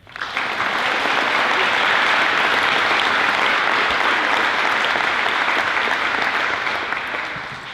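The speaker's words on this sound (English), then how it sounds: "just stand up real quick and give them a quick round of applause here" A school awards ceremony audience claps in sustained, dense applause that starts sharply, holds steady and loud for several seconds, then tapers slightly toward the end.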